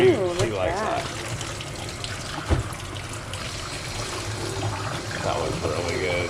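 Hot tap water runs steadily into a sink while a tie-dye shirt is rinsed, a continuous trickling splash close by, with people talking over it.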